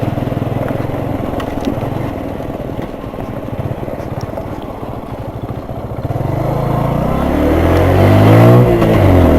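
A Hero Super Splendor BS6 motorcycle ridden at top speed, with a loud continuous engine drone and wind rush that swells and rises in pitch toward the end.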